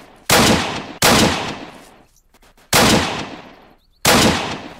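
Four loud, sharp gunshots from the online zombie survival game Apocalypse Rising, spaced unevenly with brief echoing decays, alone with no talk.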